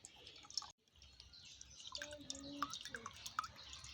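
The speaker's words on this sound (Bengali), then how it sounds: "জল পড়ছে তো, আওয়াজ শুনতে পাচ্ছি।" Water drips indoors in a quiet room, a few faint irregular drops and small splashes over soft background noise, with light indistinct movement sounds.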